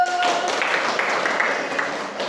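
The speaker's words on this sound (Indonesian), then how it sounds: "sementara tepuk tangan dulu" Applause from students in an Indonesian classroom during a fiqh lesson, a steady wash of many hands clapping at moderate loudness for about two seconds, fading slightly at the end.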